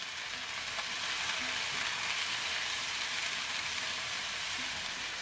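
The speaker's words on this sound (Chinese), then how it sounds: "加入切好的青红辣椒进去翻炒" Green and red chili peppers hiss and sizzle steadily in hot oil in a wok as they are stir-fried, a dense continuous crackle with faint scraping of the stirring underneath.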